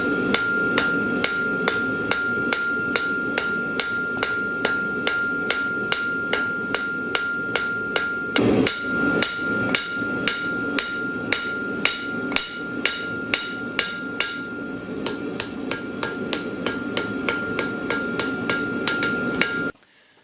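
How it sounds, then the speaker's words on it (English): A small peen hammer taps texture into a copper cuff bracelet with steady, evenly spaced metallic strikes, close and ringing, with a brief pause partway before the rhythmic blows continue. "On this piece of copper, I'm going to use a small peen hammer and put a little texture in it."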